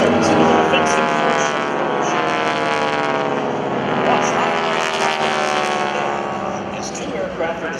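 GEICO Skytypers propeller planes fly past at the 2012 Rhode Island Air National Guard airshow, a loud, droning prop roar that swells and fades, with a public-address announcer talking over it.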